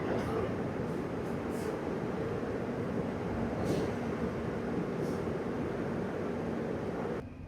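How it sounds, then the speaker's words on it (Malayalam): On platform 3 of Kannur railway station, the KSR Bengaluru–Kozhikode Express gives a low, steady rumble with a continuous mechanical drone. The sound is fairly loud and close and keeps up unbroken before easing off at the very end. "കണ്ണൂർ റെയിൽവേ സ്റ്റേഷൻ്റെ 3ാമത്തെ പ്ലാറ്റ്ഫോം."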